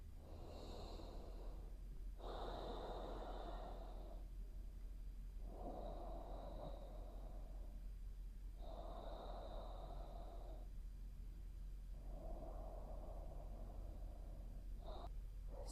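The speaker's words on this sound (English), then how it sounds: "Breathing in and out through your nose" Slow, deep yoga breaths drawn in and pushed out through the nose, about four full cycles of airy rushing separated by short quiet pauses, close and steady.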